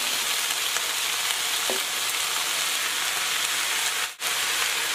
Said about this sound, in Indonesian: kemudian kita masukin yang terakhir sawi ya, sawi putih.